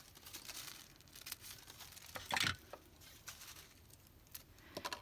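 Recycled paper packaging is being folded and cut into a strip, faint crinkling and rustling with a few sharper snips and crackles, close and quiet, with no talk.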